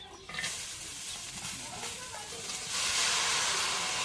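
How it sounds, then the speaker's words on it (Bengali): Cauliflower greens hit hot oil in a wok, a soft rustling sizzle that swells into a louder, steady hiss in the last second. "এখন শাকগুলো কড়াই দিয়ে দিই।"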